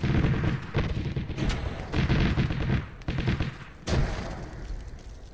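Gunfire and a grenade blast in the Arma 3 video game during a house assault, with dense rapid shots and heavy booms in repeated loud bursts across the whole stretch.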